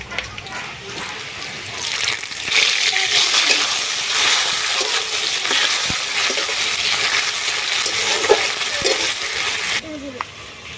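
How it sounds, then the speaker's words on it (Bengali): Chopped river shrimp go into a frying pan with lightly fried onions; the sizzle swells suddenly and stays loud and steady for several seconds, with scattered stirring clinks, before cutting off. "এবারে দিয়ে দেব কেটে রাখা চিংড়িগুলো"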